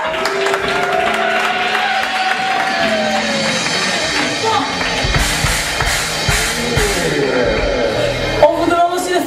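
Audience at a slam poetry evening applauding and cheering, a crowd's clapping and shouts building in the middle, mixed with music and people talking.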